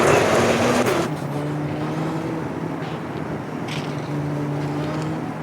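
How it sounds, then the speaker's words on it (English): A rally car engine in the Richard Burns Rally driving game runs steadily after a loud initial burst, holding a droning, moderately revved tone with gentle throttle changes and no talking. "Start the car. Throttle carefully up to 50."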